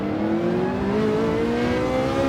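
A Ferrari GT3 race car accelerating in Gran Turismo 7, its engine note rising steadily in pitch as a smooth, loud, continuous whine through one gear, close and alone without talk.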